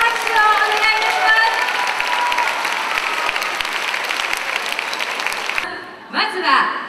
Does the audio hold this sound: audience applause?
yes